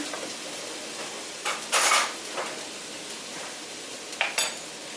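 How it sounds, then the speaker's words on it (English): Onions stirred in a pan on a stove, with a few short metallic scrapes and clinks of the utensil against the pan over a faint background, near and fairly loud, no talking. "I'm just gonna stir my onions"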